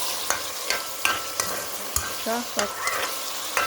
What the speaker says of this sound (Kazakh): морковь өлгенше қуырамыз